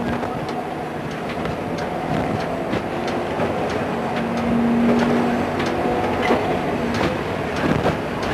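Train running along a Welsh branch line between Machynlleth, Barmouth and Pwllheli, crossing a footpath level crossing; a steady rumble with rhythmic wheel clicks and squeals builds to a louder passage midway, continuous throughout.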